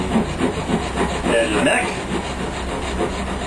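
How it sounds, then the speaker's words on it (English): A heavy hand file works down the edge of a wooden guitar fretboard, giving a steady rasping scrape in repeated strokes, fairly close, with someone talking over it. "I just use my file, my heavy file here, to work that down to the"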